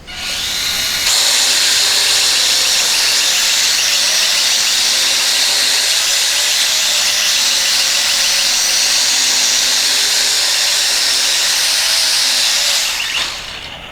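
Star Wars Millennium Falcon XL drone in flight outdoors, a loud steady high-pitched rotor whine and hiss holding constant for about twelve seconds before cutting off.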